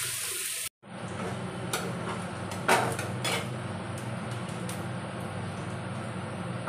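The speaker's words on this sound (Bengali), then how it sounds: "পেঁয়াজ আর রসুন থেঁতো করা সেটাও দিয়ে দিলাম। এবার একটু ভালো করে ভেজে নিচ্ছি।" Crushed onion and garlic fry in a pan on a kitchen stove, a continuous close hiss of oil broken by a few clinks and knocks of a utensil against the pan, with no talking.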